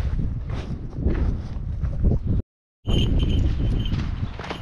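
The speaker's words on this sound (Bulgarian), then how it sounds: "Ветровито е, ветровито." Gusty outdoor wind buffets the microphone in a steady, loud low roar with faint hissing, cutting out briefly midway before blowing again; no one speaks.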